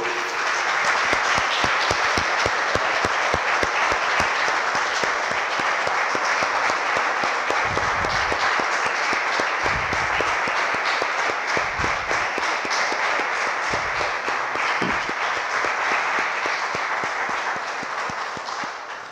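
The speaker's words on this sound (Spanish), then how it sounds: "Damos un aplauso, hermanos, al Señor." Steady, sustained applause from a church congregation fills the whole stretch, dense and loud, with a few low thumps and faint voices mixed in near the middle.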